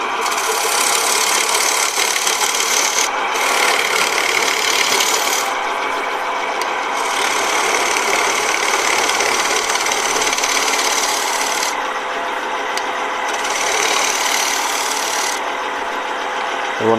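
A spindle gouge cuts a live-edge oak bowl spinning on a wood lathe at around 1000 rpm, giving a loud, close, continuous scraping rasp over the motor's hum, with the cutting briefly stopping and resuming.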